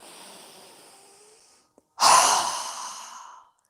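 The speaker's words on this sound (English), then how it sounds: "inhaling through our nose, and exhale through our mouth with a strong exhale" A soft, slow inhale through the nose during a yoga breathing exercise, followed after a brief pause by a strong, forceful exhale through the mouth, close and clear.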